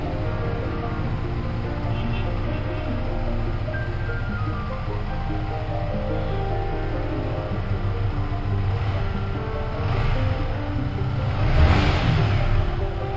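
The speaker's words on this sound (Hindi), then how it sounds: "ये गाड़ी की आवाज है।" A Yamaha MT15 motorcycle idles steadily close by with a low, even engine drone, rising briefly near the end as if revved.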